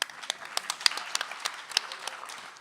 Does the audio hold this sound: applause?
yes